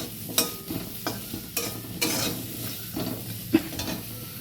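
Potatoes and cabbage fry in a pan while being stirred, giving a soft steady sizzle broken by several scraping and clinking spoon strokes at irregular intervals, close up and with no voices.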